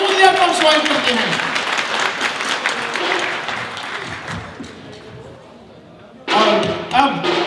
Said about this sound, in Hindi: जोरदार तालियों से रानी मुलिया को हम स्वागत करते हैं।